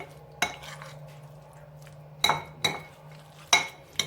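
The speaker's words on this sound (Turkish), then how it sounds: "Ve hepsini bir güzel karıştırıyoruz" A spoon clinks against a bowl four or five times, sharp separate knocks with quiet gaps between, while roasted eggplant salad with tahini is mixed.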